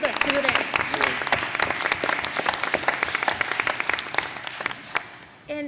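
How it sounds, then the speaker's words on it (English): Roundtable audience on school choice giving a parent and student a round of applause, dense crisp clapping close and loud, holding steady before cutting off near the end. "Big applause to you and the student."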